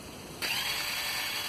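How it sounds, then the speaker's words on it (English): A high, steady mechanical whir kicks in abruptly and keeps spinning evenly without any change in load, loud and close: an ATV starter motor, on a Kawasaki Bayou, spinning freely without engaging the engine. "When you hit the starter button, your starter will spin freely and sound like this."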